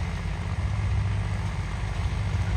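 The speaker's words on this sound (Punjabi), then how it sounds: "ਟੀਐਲਓ ਚ ਚੱਲ ਰਿਹਾ ਟਰੈਕਟਰ ਦੇਖੋ" A tractor engine runs steadily as a loud, continuous low rumble with a constant drone, close by and without pauses, and no one speaks over it.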